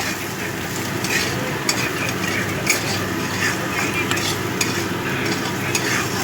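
Spiced mashed eggplant being stirred and mixed in a pan with chili powder, a steady scraping and stirring over a soft sizzle, close and continuous with faint clinks of a utensil.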